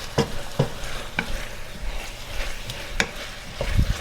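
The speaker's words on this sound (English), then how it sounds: "And I will burn the curry along with the sauteed vegetables." Jamaican curry powder frying with sautéed onions and other vegetables in a pan, a soft sizzle broken by repeated scraping stirs of a utensil, moderately quiet with no talking.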